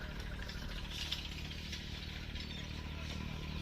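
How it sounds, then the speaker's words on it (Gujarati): A tractor engine runs at work with a steady low rumble that sounds somewhat distant and fairly quiet throughout. "ટ્રેક્ટર લઈને આવી ગયા છે કામ ઉપર"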